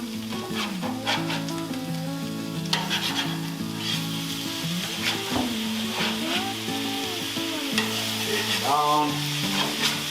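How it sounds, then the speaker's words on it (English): Sausage sizzles on a Blackstone griddle for homemade breakfast sandwiches, a steady crackling fry under a tonal background hum with periodic scraping spatula strokes, close and fairly loud, no one talking. "let's get the sausage down, get some brown on that"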